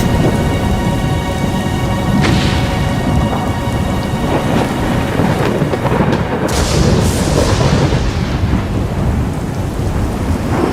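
Heavy rain pours steadily and loudly throughout a thunderstorm, with rolling thunder rumbling beneath it and a sharper crack partway through.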